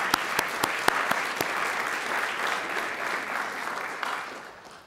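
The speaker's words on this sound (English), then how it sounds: "I'd like for you to please give applause and thanks" Audience applause of thanks for Carrie at a science and agriculture event, a few sharp early claps swelling into steady clapping that fades out.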